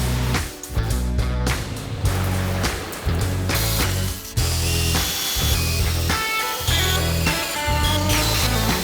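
A power drill whirs in repeated loud bursts while drilling holes in a van kitchen housing, spinning up and stopping several times with short pauses between runs.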